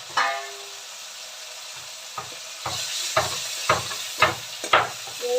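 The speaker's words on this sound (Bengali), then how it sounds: "পাশের বাড়িতে কাজ হচ্ছে বন্ধুরা, ঠক ঠক করে শব্দ হচ্ছে" Knocking from construction work in the house next door, a series of sharp irregular thuds that grow stronger toward the end, heard over the steady sizzle of shrimp frying in oil in a home kitchen.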